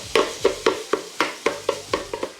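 Sausage chunks browning in a Ninja Speedi pot as a spoon scrapes and stirs them in about ten steady, evenly spaced strokes, close and clear with no talking.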